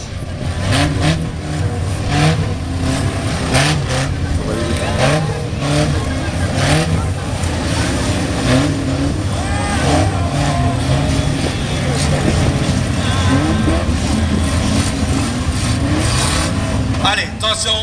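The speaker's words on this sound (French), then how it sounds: "les voitures qui peuvent encore rouler sont présentes sur ce circuit" Fun car race on a circuit in Chaumont, with several engines revving and accelerating at a distance amid crowd noise and a commentator talking over the loudspeakers throughout.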